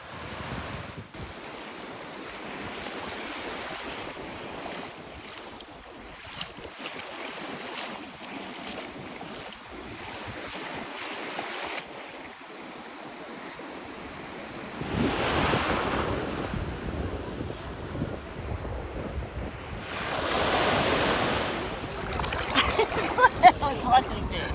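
Surf rolling in and wind buffeting the microphone at Grayton Beach State Park on the Florida Gulf coast, a steady wash that grows louder and fuller in the second half, with a voice coming through at moments.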